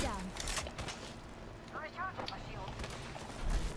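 Bursts of automatic gunfire from the video game Apex Legends, sharp rapid volleys scattered across the moment, with a player talking over them.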